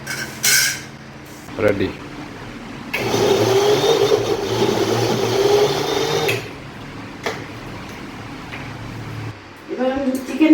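Bread spun in a kitchen mixer grinder: a loud, steady electric whirring burst of about three and a half seconds, then a quieter stretch of motor hum, framed by brief clatter and short speech before and after.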